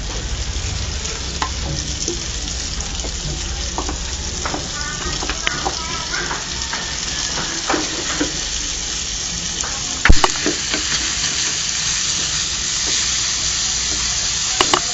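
Onion and garlic sizzle and fry loudly in a hot oiled pan with steady crackling, broken by sharp clatters of stirring and utensil knocks.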